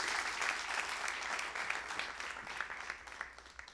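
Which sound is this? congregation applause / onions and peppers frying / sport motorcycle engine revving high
congregation applause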